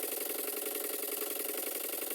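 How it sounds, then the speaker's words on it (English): An old steam launch engine in poor condition runs on a pond with a quick, even mechanical patter and a light rattle, faint and steady with no voices. "The engine seems to make a very good noise, and as this is an African Queen type boat, it doesn't want to be silent"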